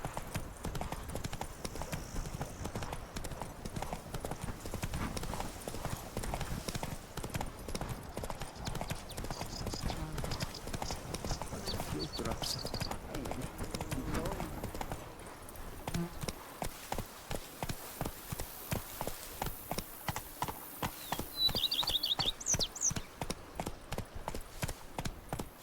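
Roach the horse gallops hard in The Witcher 3: Blood and Wine, hooves drumming in a fast, steady rhythm throughout, with brief game sounds and a faint whinny-like call over the pounding stride.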